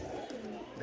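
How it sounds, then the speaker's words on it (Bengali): A pair of Pakistani napta pigeons coo in low, soft murmuring tones, close and faint against a steady background hum. "এখানে দেখতেছেন এক জোড়া পাকিস্তানি নাপ্তা কবুতর"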